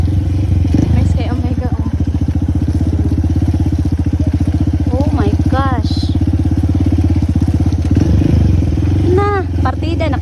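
A motorcycle engine runs loud and close with a steady, throbbing putter throughout, while voices and laughter come through over it.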